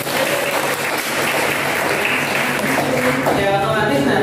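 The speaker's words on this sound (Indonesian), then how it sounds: "Tepuk tangan." Students in a classroom give a round of applause, a dense, fairly loud patter of many hands clapping that goes on for several seconds, mixed with murmuring voices.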